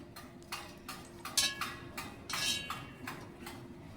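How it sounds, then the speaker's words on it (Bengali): A lid snaps and clicks shut on a ghee container during a home puja, with several light plastic-and-metal clinks and taps over about four seconds, close and fairly quiet. "ঘিয়ের ঢাকনা হয়ে যাচ্ছে বন্ধ"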